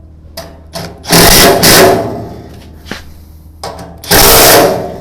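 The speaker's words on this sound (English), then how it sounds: "I'm just running them till they're tight on the 3rd setting of my impact." A cordless impact driver on its third setting hammers screws tight in two loud bursts of rapid rattling, with short quieter whirs and clicks between them and no talk.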